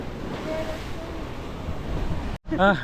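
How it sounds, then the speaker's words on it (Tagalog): Strong surf at a Boracay Island beach in the Philippines, a loud roaring wash of waves with heavy wind buffeting the microphone, briefly cut off near the end before a voice speaks. "Ang lakas ng alon."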